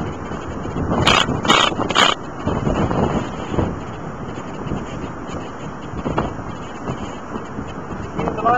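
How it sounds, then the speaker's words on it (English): Strong outdoor wind buffeting the microphone during a tarp-shelter setup, a continuous rough roar with several sharp gusty thumps early on, then a steadier rushing, with no talking. "A lot of wind."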